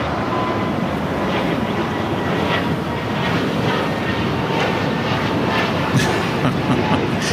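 A Korean Air Cargo Boeing 777 freighter at LAX, bound for Seoul, rolls toward runway 25 with a steady, loud broadband jet roar that holds throughout.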